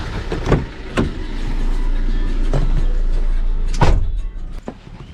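Car doors open and shut with sharp thumps as people climb into a car, several distinct knocks spread across the clip over a steady low engine rumble.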